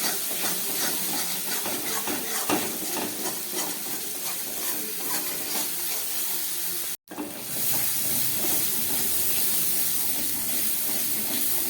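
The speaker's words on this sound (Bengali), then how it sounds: "গ্যাস একদম কম করে মশলাটাকে খুব ভালো করে কষিয়ে নিচ্ছি।" Spice paste fries in a pan over very low gas for a Bhola fish curry, a continuous sizzle broken by stirring scrapes, steady and close with one brief cut.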